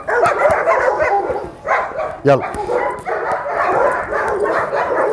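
An untrained eight-month-old dog on a farm gives loud, close yips and barks in short bursts, mixed with whimpering, while someone talks over it.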